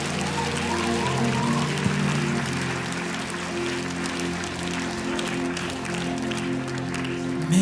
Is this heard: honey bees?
no